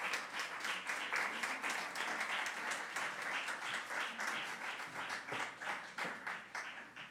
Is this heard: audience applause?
yes